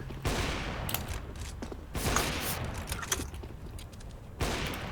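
Bursts of gunfire in a shooter video game, several sharp volleys spaced a couple of seconds apart, moderately loud with faint noise between.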